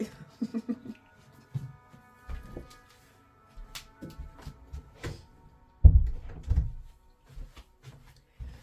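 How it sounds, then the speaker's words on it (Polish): A door being shut indoors, with a heavy close thump followed by scrapes and softer clunks amid quiet handling noises. "Poczekajcie, zamknę drzwi."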